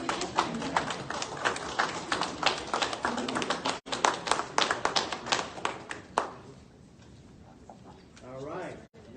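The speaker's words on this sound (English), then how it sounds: "now you clap" Audience clapping at a Nebraska governor's public education event, a crowd applauding in a dense burst of sharp claps for about six seconds and then tapering off, with voices underneath.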